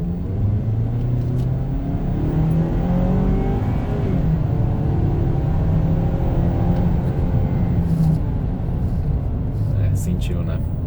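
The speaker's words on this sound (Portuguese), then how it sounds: "Vamos parar aqui e vamos dar uma aceleradinha," A Ford Maverick pickup accelerates hard on a quiet road, its engine note climbing steadily and staying loud and close throughout, with someone talking over it.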